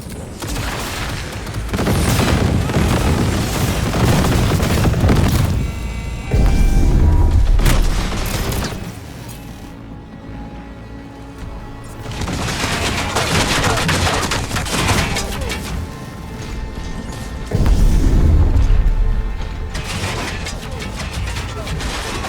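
Gunfire and explosions from combat in the video game Cyberpunk 2077 come as heavy booming blasts and rapid volleys of shots in dense, continuous waves. They are loud and close, with brief lulls between the bursts.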